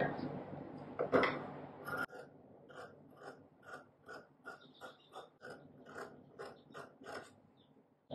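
Scissors cutting fabric along an armhole curve for tailoring, a steady series of crisp snipping clicks at an even rhythm, close and fairly quiet after a brief rustle at the start.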